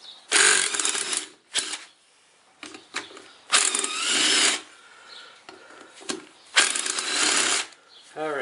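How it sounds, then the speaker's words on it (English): A wrench works bolts off a Ford Mountaineer during a viscous coupling repair, a series of loud ratcheting, rasping bursts of a second or so each, separated by short clanks and pauses. "I'll have to take a wrench to it here. Take these off."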